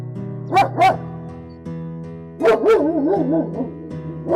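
A dog barks in two close pairs of loud, near barks, the second pair trailing into a wavering whine or yip, with a steady tonal background underneath.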